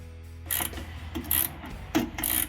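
A hand ratchet works loose the bolts on the rear luggage rack of an ATV buggy, with a few short, close bursts of rapid clicking separated by brief pauses.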